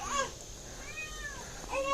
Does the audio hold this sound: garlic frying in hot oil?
no